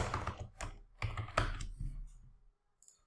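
Someone types a short word on a computer keyboard: a quick, close run of crisp key clicks in an uneven rhythm that trails off into silence, with no talking.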